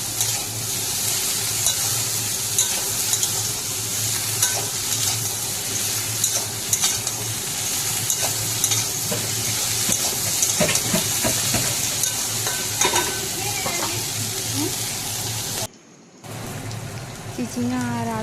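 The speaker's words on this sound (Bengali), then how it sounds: "এখন দিয়ে দিলাম চিচিঙে আর আলু একসাথে ভালোভাবে ভেজে নেব" Snake gourd and potato pieces frying in oil with dried red chilli, a continuous loud sizzle with repeated scraping and stirring strokes, a short cut to silence near the end before the frying resumes.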